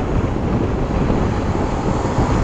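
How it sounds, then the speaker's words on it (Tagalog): Strong wind roars continuously into the microphone of a rider cruising on a motorcycle, a dense, loud rushing noise with no break or talk over it. "Medyo malakas yung hangin kasi umuulan na doon sa unahan"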